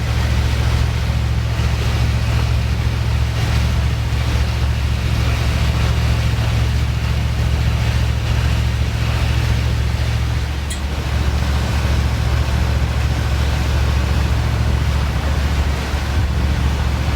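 Ocean waves and wind rush past a boat travelling from Wrightsville Beach to Beaufort near a constructed jetty, with a steady loud low engine drone beneath constant wind and surf wash.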